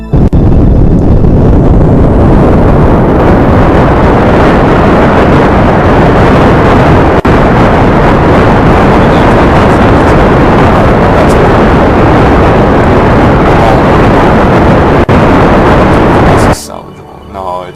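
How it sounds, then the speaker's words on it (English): Lander engines fire on a spacecraft in Kerbal Space Program, a loud, dense, continuous roaring blast that holds steady for about sixteen seconds and then cuts off abruptly. "I just activated the lander engines."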